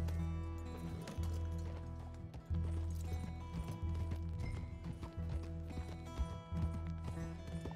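A horse in Red Dead Redemption 2 clip-clops along a street, with steady hoofbeats over a low hum of city ambience in the game.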